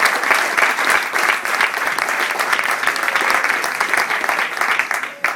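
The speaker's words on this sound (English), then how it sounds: "So a big round of applause for those people that made that happen." Loud, close applause from a large audience, with dense clapping that stays strong throughout and tapers only slightly at the end.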